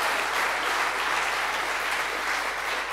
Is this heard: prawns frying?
no